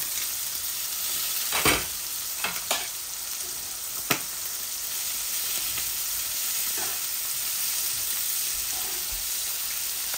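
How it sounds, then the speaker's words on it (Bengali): Pieces of rui fish frying in a pan, a steady sizzling hiss with a few sharp clicks and knocks from turning or stirring early on, then even frying with no speech. "মাছগুলো বেশি কড়া করে ভাজবো না"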